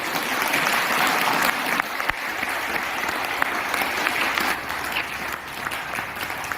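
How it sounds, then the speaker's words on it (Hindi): Audience applause after a talk on the scientific basis of pranayama, loud, dense clapping from a roomful of people sustained evenly throughout without any talking. "सर के लिए एक बार फिर से जोरदार तालियां।"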